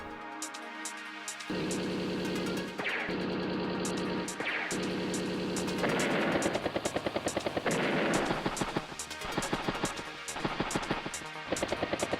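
Battlecopter units in Advance Wars: Days of Ruin give a continuous loud rotor-and-engine drone, interrupted by a few brief breaks and bursts resembling gunfire.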